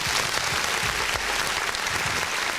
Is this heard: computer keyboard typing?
no